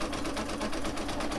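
A Brother Innovis 1250 embroidery machine stitches out a design, its needle running in a steady, rapid mechanical chatter with a constant hum, close and continuous.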